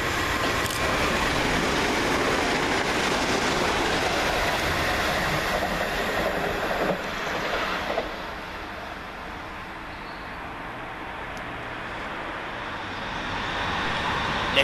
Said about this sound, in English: another fast one in form of 377458, working 1 Sierra 10 from Brighton to Portsmouth and Southsea.